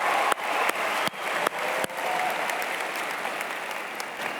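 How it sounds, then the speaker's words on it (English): Audience applause at a graduation ceremony, a broad wash of clapping from a large crowd in a hall, steady and moderately distant, fading slightly toward the end. "Let's give Ecot a big round of applause"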